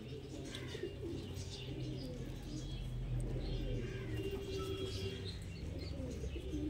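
Madras pigeons cooing, with low, soft coos and occasional chirps repeating steadily over a constant background hum, close and moderately loud throughout.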